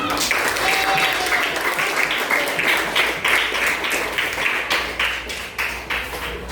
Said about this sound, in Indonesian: Kita berikan aplaus untuk masing-masing kelompok